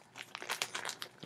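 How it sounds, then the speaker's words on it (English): Paper or plastic mail packaging being torn open by hand for an unboxing, a close, loud run of crinkling and ripping bursts over about a second. "Wow! Tears open."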